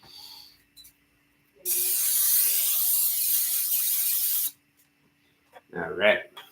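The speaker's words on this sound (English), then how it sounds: "non-stick cooking spray or olive oil cooking spray" Olive oil non-stick cooking spray hisses from the can in one continuous burst lasting about three seconds, close and loud, with a brief voice afterward.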